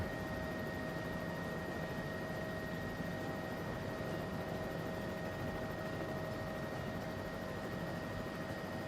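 Inside a helicopter in flight, a steady loud broadband rotor and engine drone carries a constant whine, unbroken throughout with no other sounds.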